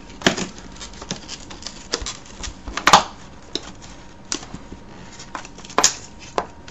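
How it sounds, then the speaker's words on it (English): Packing tape being peeled off the box of a Logitech Harmony 880 universal remote, a series of sharp crackling rips and sticky pulls scattered across the clip, close and fairly loud with no talking. "so we'll go ahead and pull the tape"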